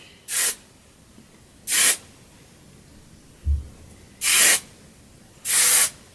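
Hairspray is sprayed onto a curled roller set, four separate bursts of hissing aerosol spray, each about half a second long, with a short thump between, close and otherwise quiet.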